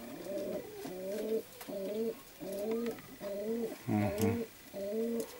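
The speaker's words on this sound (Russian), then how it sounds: "Вот это голуби продаются." Pigeons at a pigeon sale, including black white-tailed and Mariupol breeds, coo in a steady repeating rhythm, close and clear, each soft throaty phrase following the last with short pauses between.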